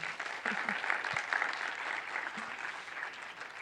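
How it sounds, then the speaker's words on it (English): Applause from a conference audience at the close of a session, a steady, dense clapping that fills the room at moderate level throughout with no talk over it. "Big applause."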